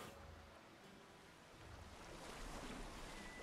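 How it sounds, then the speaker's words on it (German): Ocean waves surge and wash in the Assassin's Creed Odyssey game world, a steady broadband roar with wind that swells louder in the second half, no voices. "Ah, perfekt, die Welle kam"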